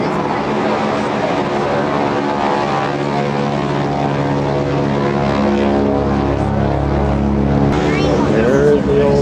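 A P-39 aircraft's engine and propeller drone loudly and steadily with strong harmonic tones, rising slightly toward the end.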